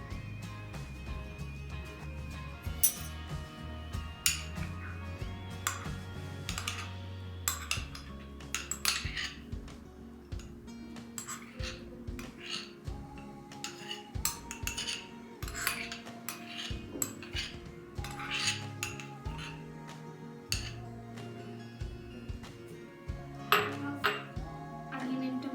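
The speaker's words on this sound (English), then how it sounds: "we will take all these vegetables and add them to this bowl" Chopped vegetables for a stuffed bun filling, including tomato, are tipped into a bowl, producing a long run of sharp clinks and dish knocks over a steady low hum, with no one talking.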